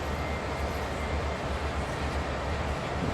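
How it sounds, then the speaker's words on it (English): Three GP38 diesel locomotives in the Train Sim World video game, heard as a steady, dense, rumbling engine drone at close range with no breaks. "This is our train."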